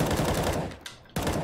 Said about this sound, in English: Dennis probably sprayed through the smoke and into, you know, a line that shouldn't have pushed